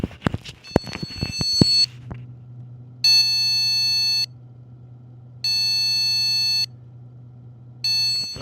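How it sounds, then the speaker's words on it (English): A computer under repair with a suspected dead ninth-generation CPU gives loud electronic beeps in long steady tones about a second each, repeating at even intervals over a low hum, after some sharp clicking handling noises. "That's just a constant beep."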